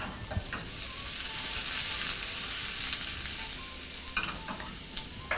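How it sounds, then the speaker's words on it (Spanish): Squash and cauliflower soup sizzles softly in a pot while a utensil stirs it, with light scraping taps scattered over a steady hiss. "Bueno, voy a mover acá."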